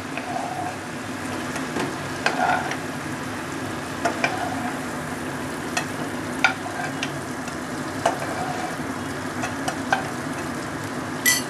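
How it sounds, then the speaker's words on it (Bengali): Prawns frying gently in mustard oil over medium-low flame, a soft steady sizzle with periodic sharp clinks and scrapes as they are lifted out, close by. "হালকাভাবে ভেজে নিয়েছি চিংড়ি মাছগুলো, এবার আস্তে আস্তে তুলে নিতে হবে।"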